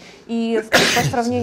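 A single sharp sneeze bursts out mid-sentence during a televised studio discussion, close and loud, briefly interrupting a man's ongoing speech.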